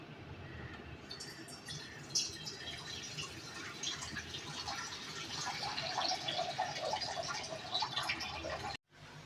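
Water poured or running into a cooking pot in a home kitchen, a steady splashing trickle heard up close and alone for several seconds before cutting off abruptly.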